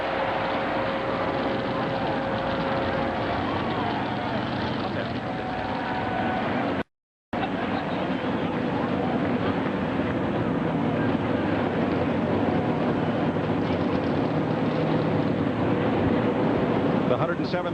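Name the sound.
military fighter jet flyby by the 107th Fighter Squadron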